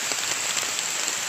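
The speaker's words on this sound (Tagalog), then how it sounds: "Napakalakas ng ulan dito." Heavy rain drums steadily on a surface as a dense, even wash of hiss with scattered droplet ticks, loud and continuous throughout, with no voices.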